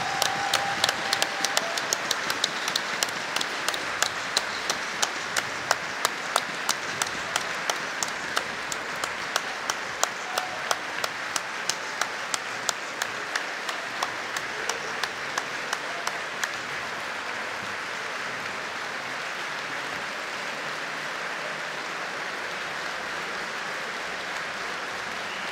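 Audience applause at a Rainbow Six Siege esports final, a large crowd clapping in a sustained roar with rhythmic, synchronized claps for most of the stretch before settling into a dense, even wash of applause.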